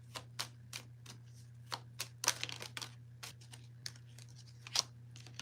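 Tarot cards being shuffled, a series of crisp riffling and slapping bursts at irregular intervals over a steady low hum, close and fairly quiet, with no talk.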